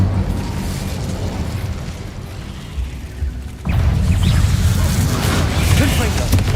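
An Incendio fire spell cast in Hogwarts Legacy, a sudden loud whooshing, roaring burst that kicks in partway through and sustains over an already busy, rumbling background, with a voice calling out around it.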